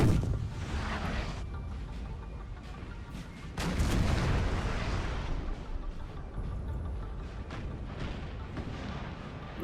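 Artillery fires in a Napoleon Total War battle, heard as dull booms rolling over a constant rumbling battlefield din, with a louder burst partway through.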